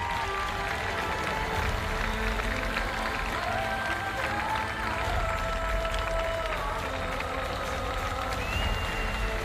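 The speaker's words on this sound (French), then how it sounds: "Un tonnerre d'applaudissements pour Jean-Philippe Tchoumi" Crowd applause at the UTMB Mont-Blanc ultra-trail closing ceremony for a finishing runner, a steady, moderately distant roar of clapping and cheering that stays continuous throughout, with a voice over a loudspeaker.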